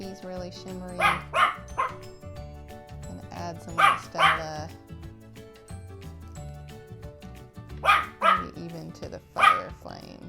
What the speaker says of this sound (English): can hear my little puppy barking.